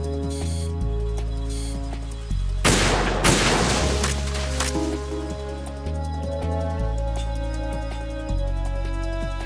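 Gunfire while shooting sentries in the video game Metal Gear Solid 2, a loud blast followed by sharp shot bursts over a sustained low musical score with stepped tones.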